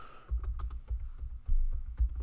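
Keys clatter on a computer keyboard as an answer is typed into a Google Doc, a quick uneven run of close, crisp clicks over about two seconds.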